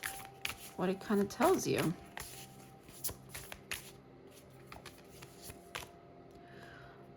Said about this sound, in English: so I will draw another card from this deck